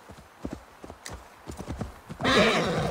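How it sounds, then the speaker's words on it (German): Horse in Assassin's Creed Valhalla at a druid ritual site: a string of close hoof clip-clops at an even walking pace, then a loud drawn-out neigh that ends the clip. "Hallo, Pferd?"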